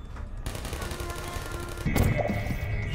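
Gunfire in the video game Portal 2, a steady dense rattle of shots running throughout and growing louder near the end, with a faint voice briefly in the mix.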